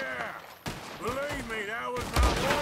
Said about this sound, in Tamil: யாரா அவன் அங்கிருந்து சுடுறான் அட பாவி